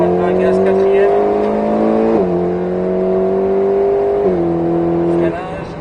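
A car accelerates at full throttle in fourth gear on the Haut Saintonge race circuit, its engine droning loud and close with steady rising pitch and brief dips at gear changes, while a person speaks over it.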